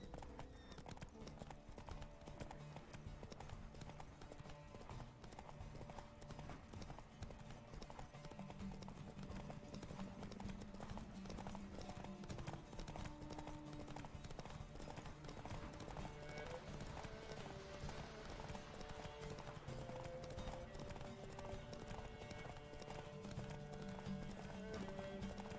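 Roach, a horse in The Witcher 3, gallops in a race with steady rhythmic hoof clip-clops throughout, an occasional whinny, and in-game voices and music underneath.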